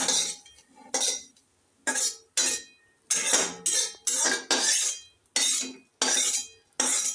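Fried neem leaves are scraped from a kadai onto a plate: about nine short, close bursts of metal utensils clinking and scraping, separated by brief silences.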